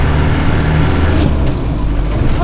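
A heavy diesel engine of a 26-year-old Land Rover Defender Tdi drones loudly and steadily from inside the moving vehicle, with rumbling road noise and a brief hiss partway through.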